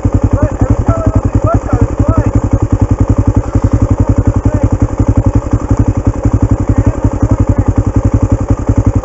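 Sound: dirt bike engine running

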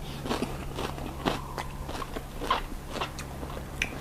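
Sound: biting and chewing spicy chicken feet salad

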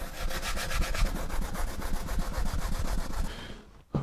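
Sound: hand sanding a sink insert

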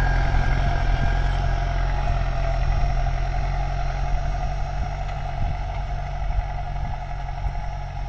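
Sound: tractor pulling cultivator

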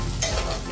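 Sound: onions frying in pan with chili and bay leaf

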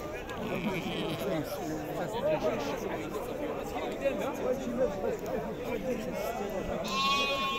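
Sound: sheep bleating at a livestock market

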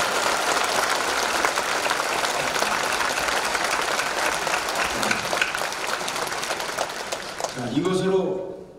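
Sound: applause for Pastor So Kang-seok

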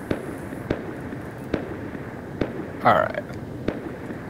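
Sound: raid explosions in the video game Rust

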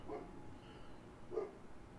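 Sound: dogs barking in Little Nightmares video game

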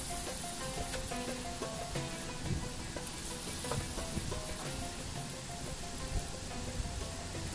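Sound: small urad dal coconut bondas frying in hot oil

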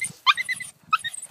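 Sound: terrier dog whimpering, excited about wildlife

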